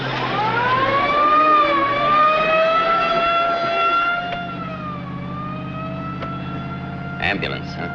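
An ambulance siren wails, rises and holds loud for several seconds, then fades as a low engine rumble takes over, ending with a few brief knocks.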